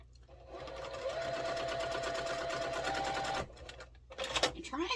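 A sewing machine stitches quilt block seams in one steady, close run of about three seconds, then stops as a person begins talking.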